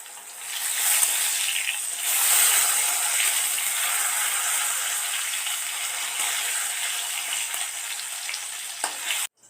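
Pointed gourd frying in a pan sends up a loud, steady sizzle with crackling spatter that runs nearly unbroken for about nine seconds, with no talk, and stops abruptly at the end.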